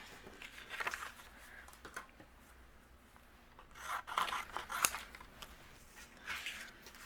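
Scissors trimming a paper card panel, faint quiet snips and rustling paper in a few short bursts close by, with no talking.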